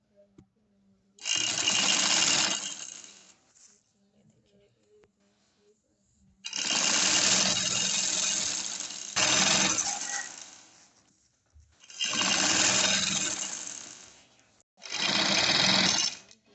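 A sewing machine double-stitches lace onto the edge of a dupatta in four long runs, each a steady, fairly loud buzz lasting a few seconds, separated by short pauses.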